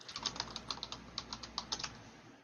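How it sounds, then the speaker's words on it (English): Fingers tap quickly on a computer keyboard, a soft, close run of light clicks in an irregular rhythm with no voices. "he's over here just typing away"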